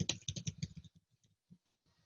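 Rapid typing on a computer keyboard: a quick burst of close, crisp key clicks that thins out into a few scattered, softer taps, heard alone at low level.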